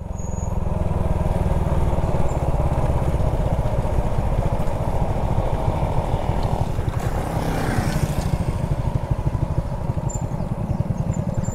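A motorcycle engine drones loudly and steadily while climbing a rough hill trail at Buntay Hills in Santa Magdalena, Sorsogon, with a rapid pulsing rumble throughout.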